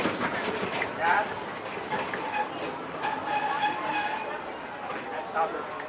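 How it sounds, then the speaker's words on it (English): A Disney park railroad train runs on its rails toward the Toontown stop, making a moderate, continuous rolling rumble with rhythmic clicking of the wheels, heard from on board the train. "please remain seated until the train comes to a complete stop"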